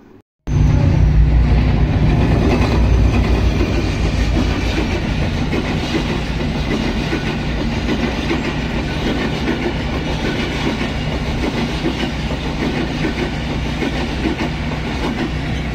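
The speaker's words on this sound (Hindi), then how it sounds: "मुझे ना ट्रेन की आवाज़ बहुत पसंद है। मतलब जब वो गुज़र रही होती है ना तो बड़ा मज़ा आ रहा होता है।" A train rolls past a railway crossing close by, a loud continuous rumble with rattling clickety-clack of wagons on the rails that starts abruptly and holds steady throughout, with no talking.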